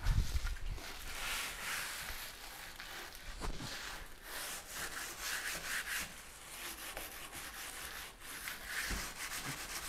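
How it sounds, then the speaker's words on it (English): Steady, close rubbing of wood against wood to burnish a moulding shape, a dry scraping friction in continuous strokes with a few small knocks. "There's only rubbing wood on wood."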